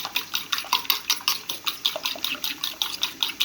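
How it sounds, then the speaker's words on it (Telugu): A mixture is beaten in a bowl with quick, regular strokes, and each stroke gives a clattering clink against the bowl. "ఇప్పుడు బాగా బీట్ చేస్తుంది."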